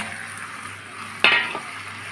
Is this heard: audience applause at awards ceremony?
no